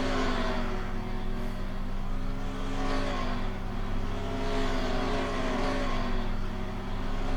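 A race car engine roars without pause in a racing video game as the car takes the final turn to the finish at Canadian Tire Motorsport Park, a loud, sustained drone with rising and falling pitch.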